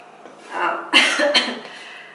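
A short burst of coughing, two or three rough coughs close to the microphone, following a brief throaty sound.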